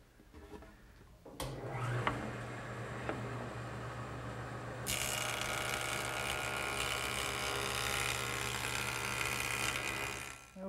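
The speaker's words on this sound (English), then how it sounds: "I'm going to run one edge through the joiner to make sure that it's perfectly straight and" A wood jointer runs with a steady motor whine, and a loud rushing cut joins in partway through as a table leaf edge is planed, then continues evenly to the end.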